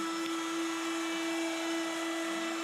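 A cordless wood router runs steadily during workbench construction, a continuous high-pitched motor whine with a strong sustained tone, close and loud with no voices.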